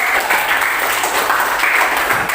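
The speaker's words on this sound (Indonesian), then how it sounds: "Tepuk tangan buat kelompok 1." Classroom of students applauding a student group, a steady, fairly loud patter of hand claps lasting throughout with no talking.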